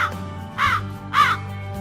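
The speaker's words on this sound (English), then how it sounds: "Crow." Crow cawing twice in a steady rhythm, two harsh, nasal calls about half a second apart, clear and fairly close against a quiet background.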